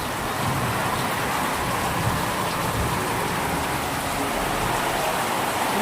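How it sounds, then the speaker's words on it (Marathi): Steady, dense hiss of heavy monsoon rain pouring continuously in a Konkan village, loud and close, with no voices. "जोराचा पाऊस सुरू झालेला आहे गावाला"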